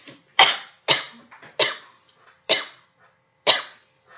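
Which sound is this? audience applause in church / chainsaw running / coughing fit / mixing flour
coughing fit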